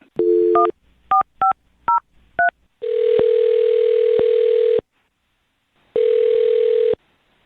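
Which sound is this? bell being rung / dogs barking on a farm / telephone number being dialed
telephone number being dialed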